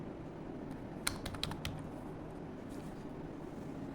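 Quiet typing on a computer keyboard, a short burst of several soft key clicks close by over faint room hum.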